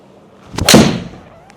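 A long iron strikes a golf ball on a draw shot: a single sharp, close crack followed by a short fading whoosh, with quiet surroundings before and after.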